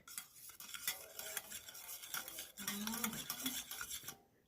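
Chutney is stirred and mixed in a bowl with a spoon, giving close, soft scraping and clinking scuffs in an irregular rhythm that stop abruptly at the end.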